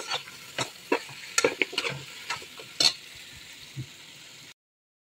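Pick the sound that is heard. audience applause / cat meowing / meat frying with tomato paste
meat frying with tomato paste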